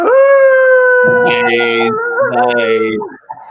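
A person imitates a lone wolf howl, a long, loud, sustained wavering wail with strong harmonics, rising and falling over a few seconds, joined briefly by other voices before trailing off.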